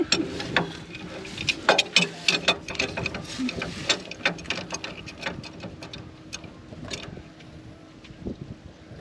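A wrench works a big nut on a Jeep during a mountain trail outing, with a series of irregular ratcheting clicks and metallic knocks, fairly faint, thinning out toward the end.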